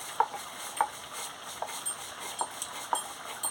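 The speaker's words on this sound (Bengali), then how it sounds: "ওটা ফুটতে ফুটতে আমি জিরেটা গুঁড়ো করে নিচ্ছি।" Roasted cumin seeds are ground, producing faint, evenly spaced clicking taps with a soft scraping hiss between them and no talk.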